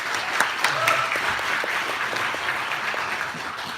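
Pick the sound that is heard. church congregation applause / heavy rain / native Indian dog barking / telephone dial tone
church congregation applause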